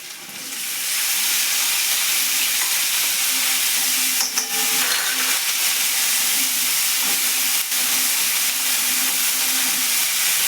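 Green garlic hitting hot ginger-garlic-chili paste in a pan, a loud, continuous sizzling hiss that starts abruptly after a quiet moment and holds steady, with a couple of faint utensil clicks.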